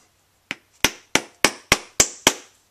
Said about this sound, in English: now I'm just tapping it on with a rubber hammer